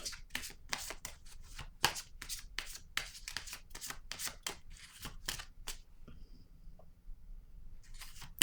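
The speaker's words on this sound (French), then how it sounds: "Je vais déposer une autre carte." Tarot cards are shuffled and laid down one after another, a quick run of soft, close papery slaps and flicks that stops briefly before resuming, fairly quiet with no speech.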